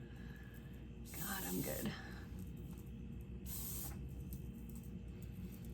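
Weightless shine hair spray hisses out of an aerosol can in two short bursts, close up, with someone speaking quietly between them.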